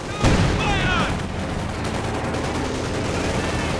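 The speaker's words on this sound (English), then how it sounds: "He's getting shot here by the conscript out in the open" Rifle fire from Soviet conscripts in Company of Heroes 2 crackles in a dense battle mix, a sharp shot near the start followed by steady overlapping gunfire, with a commentator talking over it.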